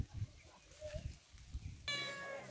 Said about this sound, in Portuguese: Aqui tem a Lilizinha, a gatinha de estimação aqui de casa, né, Lili?